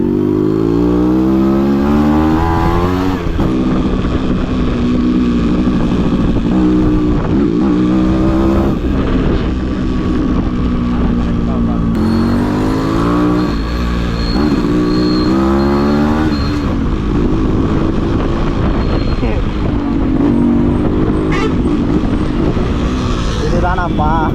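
A modified Yamaha RX135 two-stroke motorcycle, tuned to stage 1, revs and pulls loudly on a test ride, its engine note rising and falling continuously up close.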